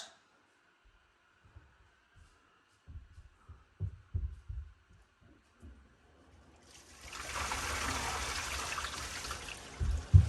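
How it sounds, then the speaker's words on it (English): A toilet that has just been repaired for a leak at its base is flushed. A few soft knocks come first, then a steady rushing surge of water swells and keeps going. "Let's give it a flush and see how it did."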